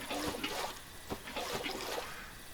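Flowing water trickles and splashes close by in Minecraft, a soft continuous stream with small bubbling bursts, heard alone without talk.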